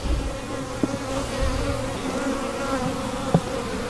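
Honey bees buzz steadily around mating nucs, a dense, close, continuous hum with no voices.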